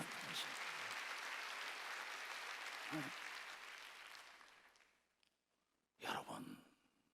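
A church congregation at a Sunday worship service breaks into sustained applause, loud and dense for several seconds before fading out, followed after a brief silence by a short burst of voice.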